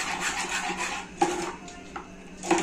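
A spoon stirs food colouring into a sakhar ghati sugar mixture in a pot, giving a steady close scraping swirl with a few sharper clinks against the rim.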